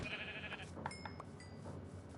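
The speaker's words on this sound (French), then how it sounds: "Mais pourquoi les moutons ils sont faibles comme ça, ils sont one shot?" Minecraft sheep bleating, a couple of short nasal bleats from the game, soft and alone over a faint background hum.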